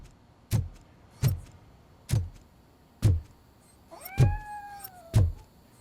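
A cat in the RoboCop: Rogue City video game meows repeatedly, six loud, clear calls at roughly one-second intervals with one drawn-out, rising-falling meow near the end, heard alone without talk.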